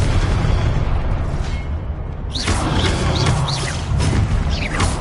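Confringo fire spell exploding in the Hogwarts Legacy video game, a steady roaring blast bed with a burst of crackling, whooshing impacts in the second half, loud and continuous.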